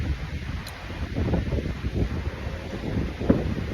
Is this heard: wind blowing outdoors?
yes